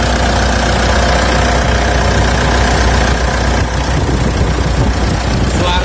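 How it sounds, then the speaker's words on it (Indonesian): Mitsubishi Pajero Sport 2.5 diesel from 2014, manual, idling close by with a dense, steady clattering rumble and no pauses. "Nah inilah suara mesinnya."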